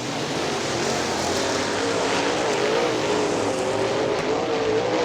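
Late model stock cars roar around Butler Motor Speedway in a continuous dense wall of engine noise, with one engine's pitch rising and falling as it passes amid the loud field.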